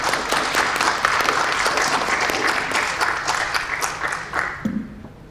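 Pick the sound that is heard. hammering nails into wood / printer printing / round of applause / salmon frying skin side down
round of applause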